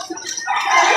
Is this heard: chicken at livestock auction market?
yes